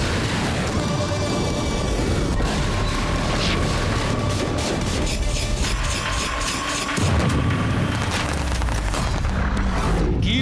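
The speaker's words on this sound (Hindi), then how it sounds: "कीव में रूस ने मिसाइल हमला किया।" Missile strike explosions in Kyiv in news footage, a dense roaring rumble of blasts and crashing debris, loud and sustained with a heavy new surge near the end.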